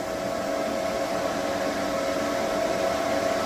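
Cooling fans of EG4 6000XP inverters running in parallel near full overload with the grid, a loud, constant whirring roar with a steady tonal hum, unchanging over a few seconds and no voices.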